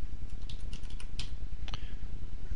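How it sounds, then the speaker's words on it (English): Quick, close keystrokes clatter on a computer keyboard as a name is typed into a drafting program. The irregular clicks come in a short burst over a low steady background hum. "in the group command, we will just type any random name"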